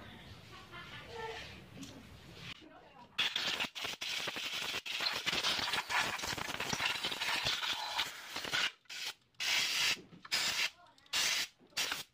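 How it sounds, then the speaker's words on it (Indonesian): Compressed air blasts into the CVT housing of a Honda Vario 125 scooter, a loud broadband hiss that runs steadily, then breaks into short repeated bursts toward the end; a voice speaks over the first seconds. "cukup disemprot aja menggunakan angin kompresor"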